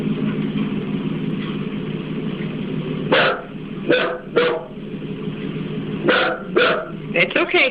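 A dog barks in a video being played back, giving a few scattered sharp barks in short clusters over a low, steady background murmur.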